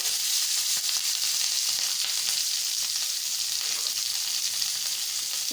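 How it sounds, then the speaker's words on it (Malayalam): Slit green chilies frying in hot oil, a dense, even hiss and crackle sustained throughout at moderate volume, close by with no voices. "എണ്ണ അങ്ങോട്ട് ചൂടായി. അപ്പം നമ്മൾ ഈ പച്ചമുളക് കീറിയത് അങ്ങോട്ട് ഇടുന്നു."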